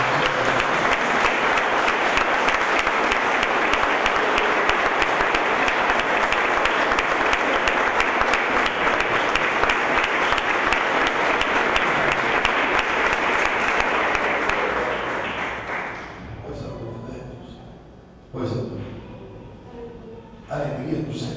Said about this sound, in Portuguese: eu gostaria que a igreja recebesse uma salva de palmas